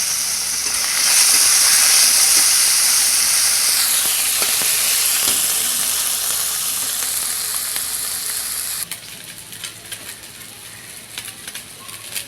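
Small fish coated in salt and turmeric hit hot oil in a wok-like pan, a loud bright spitting sizzle that surges early, then settles into a quieter crackle with scattered pops after about nine seconds.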